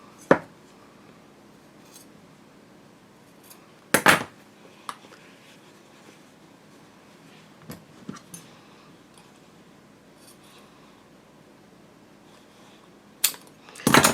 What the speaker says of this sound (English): I'll take a pair of scissors, and I just want to clip off these ends here.